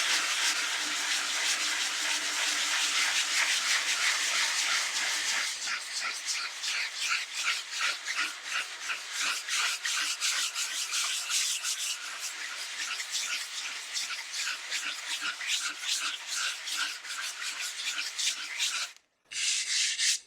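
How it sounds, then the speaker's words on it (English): Steady, continuous rasping of sandpaper worked back and forth over a dried painted surface, fairly loud and close, growing into rapid rhythmic scrubbing strokes, with a brief pause near the end; no talk. "So let's go ahead and sand it first."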